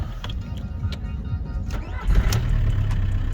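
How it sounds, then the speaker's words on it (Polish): A car engine cranks and catches, its low rumble swelling about halfway through and settling into a steady, throaty idle nearby. "Że ten samochód będzie tak palił, to się nie spodziewał"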